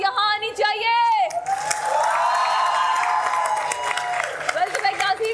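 Studio audience applause and cheering at an Eid special morning show, a dense continuous wash of clapping and shouts that swells after a brief voice at the start and carries on loud to the end.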